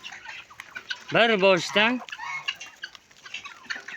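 Chickens on a small farm cluck loudly in a short burst of several harmonic calls near the middle, with quieter clucking and faint talk around it.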